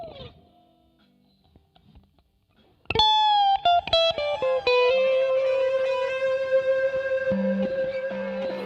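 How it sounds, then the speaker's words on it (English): After a quiet lead-in, an electric guitar solo plays sustained, bending notes with reverb blended into the dry track, giving long ringing tails. The sound is clear and up front, with no talking. "Now let's add in the reverb from here and the original."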